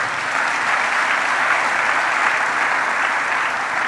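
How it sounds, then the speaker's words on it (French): A church congregation applauding during a French-language service, steady dense clapping from many hands sustained for several seconds without pause. "Acclamons la parole"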